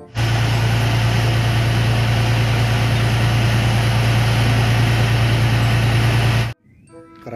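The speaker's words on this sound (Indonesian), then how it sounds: "Mobil molen." A concrete mixer truck's engine idles at close range with a loud, steady low rumble that cuts off abruptly near the end, leaving faint background sound.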